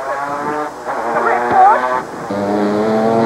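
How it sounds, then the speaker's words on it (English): GT race cars at speed on the Grand Rapids circuit during a 1999 World Challenge round, engines droning and shifting pitch under heavy braking, steady and loud throughout, with a rising whine as one car passes. "Heavy, heavy braking here, Cal."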